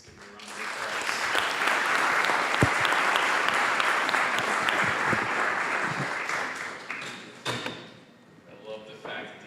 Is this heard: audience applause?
yes